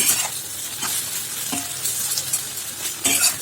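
Brinjal sautéed with chili powder in a pan over high flame: a close, continuous sizzle with repeated stirring scrapes and a few spoon knocks, no voices.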